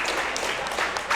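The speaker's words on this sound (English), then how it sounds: "As you can hear, the crowd is going wild." Tournament crowd at the Off The Grid 2021 live event applauding, a dense continuous wash of clapping and cheering at moderate level throughout.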